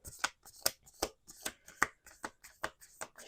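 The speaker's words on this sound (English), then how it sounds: "Let's do two more shuffles." Oracle cards are shuffled by hand in crisp, rapid riffles and taps, about a dozen sharp bursts in an even rhythm, close and fairly loud, with no talking.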